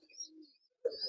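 Pigeons in a village loft of young birds give short cooing calls, a soft burst near the start and a louder, closer coo near the end, with brief quiet between.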